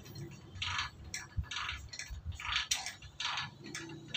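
A car jack being lowered after a flat tire change, giving a series of rhythmic mechanical ratcheting clicks and clunks, steady and close, with no talking.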